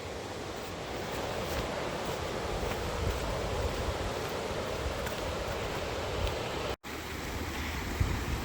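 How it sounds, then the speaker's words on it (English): Rapids of a mountain stream in Grand Teton National Park rush steadily into a lake near Lake of the Crags, a loud, close, continuous roar of water with wind mixed in and a momentary dropout near the end. "Seeing all these rapids for the last time,"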